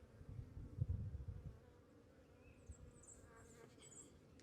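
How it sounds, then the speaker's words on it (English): Honeybees buzz around an open, crowded hive full of brood during an inspection, a low steady hum with a few louder close passes near the start, then faint higher buzzing as bees fly past. "Bees would probably be a lot nicer to me as well."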